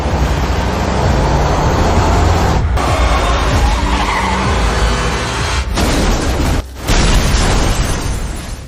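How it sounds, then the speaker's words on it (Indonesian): In the Resident Evil police station scene, a speeding truck slams into the building and explodes, a loud sustained roar of skidding, crashing and blast noise filling the whole stretch, dense and close with only brief dips. "truk yang melaju kencang mengarah ke kantor polisi karena si sopir truk tersebut telah terinfeksi virus"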